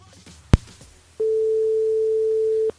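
A telephone line for a radio show's caller sounds: after a sharp click, a single long, steady electronic tone holds for about a second and a half, then cuts off.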